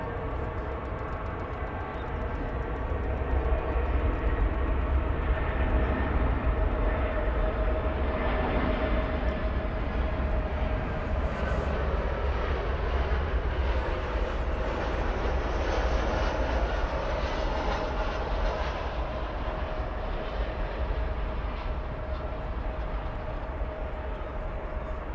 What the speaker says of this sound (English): This is an Airbus A319.